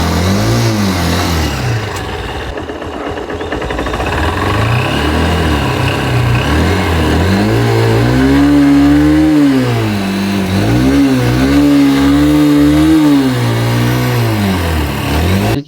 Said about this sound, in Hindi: बाइक को तो कई बार हम एक्सेलरेट करते हैं।